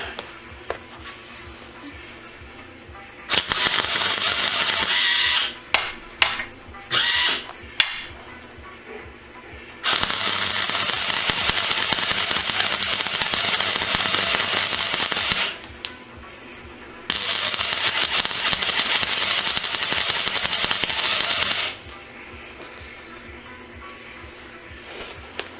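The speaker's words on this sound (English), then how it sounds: "this is a flux core MIG, which is horrendous" A flux core MIG welder sputters and crackles in long bursts of harsh, buzzing hiss, with short choppy tacks between them and quiet gaps in between, close up in a workshop at night.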